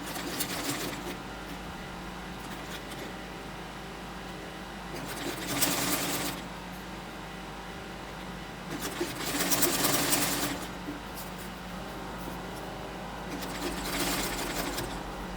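Sewing machine stitching a flare skirt in three quick bursts of rapid whirring stitches, each a second or two long, with quieter pauses between, close and alone.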